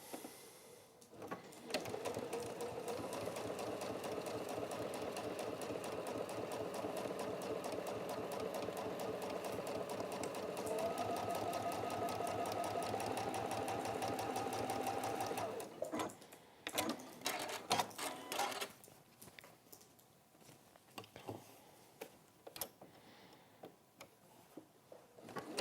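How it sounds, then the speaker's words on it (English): A sewing machine hems two fabric edges in a long, steady run of fast stitching, then stops and gives way to a few short bursts and quiet handling noises. "So we're just going to do straightforward, just hem those two edges"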